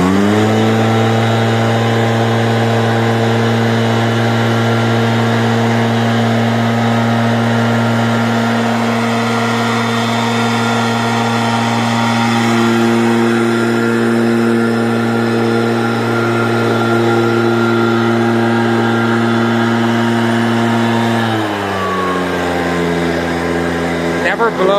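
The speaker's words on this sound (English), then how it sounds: "Never blow next to yourself, because there's a thing called blowback with these blowers." A leaf blower drones loudly and steadily, blasting debris off ledges with a strong sustained motor tone that drops in pitch near the end as the throttle eases.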